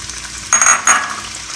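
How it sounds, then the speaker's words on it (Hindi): Potatoes added to hot cooking oil for vegetable biryani, a sudden loud hiss and crackle that bursts twice in quick succession, close to the pan, with no talking. "जी, ऑयल हमारा गर्म हो चुका है, अब हम इसमें आलू शामिल करते हैं।"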